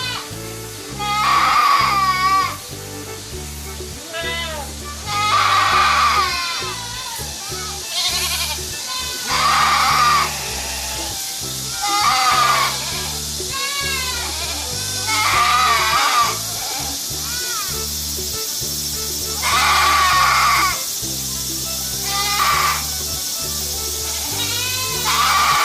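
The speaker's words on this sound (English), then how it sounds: "goat" Repeated goat bleats, loud and wavering, arriving in regular bursts every few seconds over a continuous backing of music.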